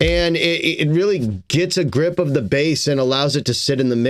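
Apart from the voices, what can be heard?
No distinct noise like a dog, phone or traffic.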